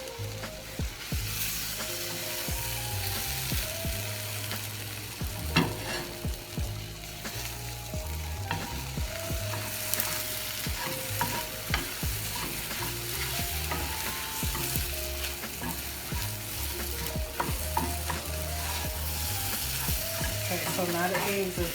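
Scrambled eggs with sliced cheese cook in a frying pan, a continuous close sizzle broken by frequent scraping and clicking of a utensil stirring, with background music or hum beneath.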